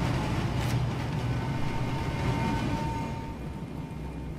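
A train rumbling past overhead in the shooter Wolfenstein: The New Order, a heavy continuous rolling clatter that holds steady and then eases off toward the end, with no talking.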